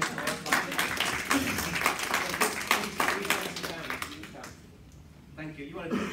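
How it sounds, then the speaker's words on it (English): A crowd claps steadily for several seconds, a dense patter of many hands that fades out near the end. "So a round of applause, I think."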